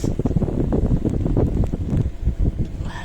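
Cold wind gusts steadily across an outdoor microphone on a night street in China, a continuous low rumbling buffet that stays loud and close throughout, with no clear talk over it.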